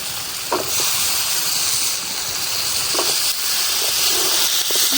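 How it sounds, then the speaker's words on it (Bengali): Chopped vegetables hit a hot pan of spices and give off a steady broad sizzling hiss that runs through the whole stretch, with a few faint clinks over it. "সবজিগুলো আগে কাইটে কেটে ধুয়ে রাখছি, এখন আমি দিয়ে দিলাম"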